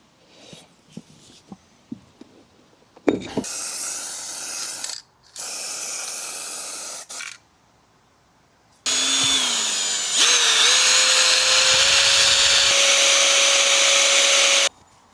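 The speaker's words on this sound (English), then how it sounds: "Just removing the tyres." Go-kart tyres are removed with a wrench and a power tool: quick ratchet clicks, then two whirring bursts from the power tool, then a longer high-pitched spin that winds down. The work is close up and nobody speaks.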